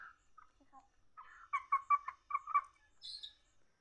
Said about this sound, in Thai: หากินตามธรรมชาตินะไก่แบบนี้